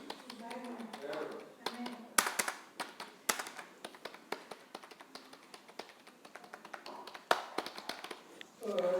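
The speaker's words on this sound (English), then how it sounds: "So this is the sound when the key is pressed." Wireless keyboard keys clicked one after another in an irregular rhythm, close up, with a voice talking briefly at the start and end.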